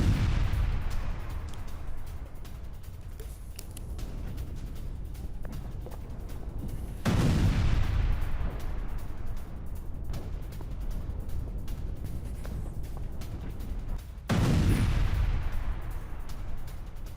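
Heavy blasts from an Israeli air strike on a Hezbollah tunnel network in Lebanon: three powerful booms spaced about seven seconds apart, each followed by a long rumbling, crackling aftermath.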